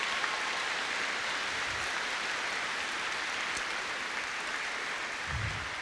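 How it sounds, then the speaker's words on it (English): Large audience clapping for sponsors at the opening ceremony of BTYSTE 2025, a steady continuous roar of applause that holds at an even level throughout with no voices. "So a huge round of applause for our sponsors,"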